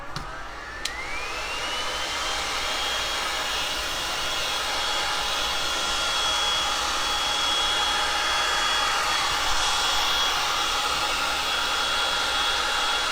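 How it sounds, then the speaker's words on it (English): A heat gun blows a steady, airy roar while heating thin Woodubend flexible wood. It rises quickly at the start, then holds a constant whine close by with no talk. "what I'm going to have to do is heat up again"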